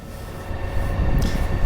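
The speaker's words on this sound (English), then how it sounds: "I was filming this train, which is one of those 2, 3, 4 kilometer long trains" A very long freight train rumbles past in New Mexico, a loud, close, continuous low roar with rattling wheels and a brief brighter hiss near the end.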